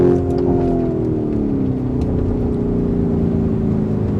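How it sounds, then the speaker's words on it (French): Lamborghini Urus Mansory accelerating flat out and dropping to second gear, a loud, close, steady engine drone whose tone slides gradually downward, with no talking. "t'accélères plus au plancher, elle passe en deuxième direct"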